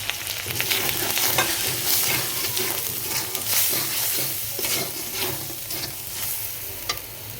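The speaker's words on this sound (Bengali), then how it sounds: "আমাদের মশলাগুলো কি সুন্দর কালার এসেছে আর সুন্দরভাবে কষতেও শুরু করেছে" Ground chili, coriander and radhuni spices with salt, bay leaf, cinnamon and cardamom fry in oil for liver chana dal, sizzling steadily up close while a spoon scrapes and stirs in repeated strokes.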